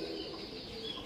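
A pigeon gives a soft, low coo, faint and close, in a brief moment with no talking.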